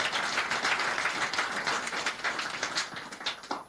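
A studio audience claps on a Nigerian call-in radio program, a brisk, close burst of crowd clapping that carries on steadily for a few seconds.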